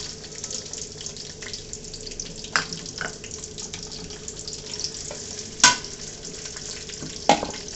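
Green chilies and onion frying in a pot for a gourd and rohu fish curry, giving a steady low sizzle with scattered scraping stir clicks and a few sharper clanks, close and with no talking.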